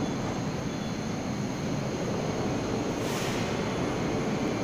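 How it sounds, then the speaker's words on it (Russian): Steady, loud roar of a Moscow metro train departing Nagornaya station through a tunnel, constant rumbling with faint high whine and no voices. "Наш поезд отправляется далее"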